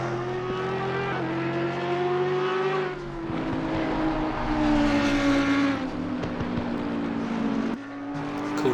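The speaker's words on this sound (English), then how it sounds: "Driving the Audi R8." An Audi R8 race car laps Suzuka in the Assetto Corsa Competizione racing game, its engine droning and shifting pitch as it revs up and down through gears, loud and continuous with faint tire noise.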